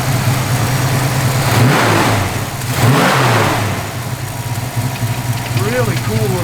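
A 1965 Ford Mustang with its 289 V8 idles with a steady lumpy rumble, then blips the throttle twice in quick revs that rise and fall, before settling back to idle.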